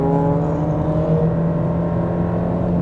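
A 2025 Subaru Legacy Premium under acceleration at speed, heard from inside the cabin as a loud, steady engine drone with a smooth tonal hum and road noise, no talking.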